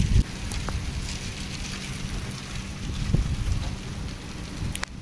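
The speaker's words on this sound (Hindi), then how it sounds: "आप देख सकते हो कितनी जोर से बारिश हो रही है।" Steady heavy monsoon rain in Mumbai hisses and patters on surfaces beside a train, a dense wash of noise with a few louder drips and knocks.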